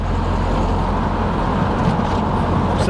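Loud and steady, the engine of a 4-cylinder Foxbody Mustang drones through fifth gear, its rumble blended with continuous road noise from inside the cabin.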